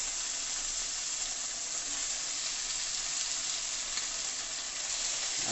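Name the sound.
chicken breast stir frying in pan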